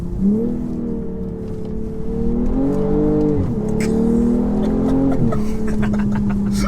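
Tuned 450 bhp BMW M240i xDrive accelerating hard on a road, heard from inside the car, engine note rising through gears with brief dips at each shift, loud and continuous.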